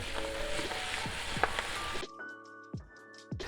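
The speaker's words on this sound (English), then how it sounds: "You really don't want to burn those aromats." Steady crackling sizzle of onions frying in hot oil in a deep frying pan, close up, with occasional stirring scrapes; the sizzle cuts off abruptly partway through.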